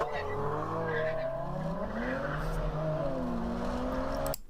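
Cars, including a Subaru, launch from a street light in a street drag race, engines revving hard with rising and shifting tones and tire noise, loud and sustained until an abrupt cut.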